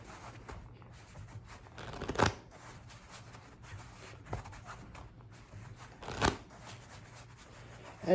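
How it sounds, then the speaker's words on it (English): A new deck of playing cards being table riffle shuffled, with two brief rippling riffles a few seconds apart, fairly quiet and close, with no talking. "Table riffles are great, and just slide them through."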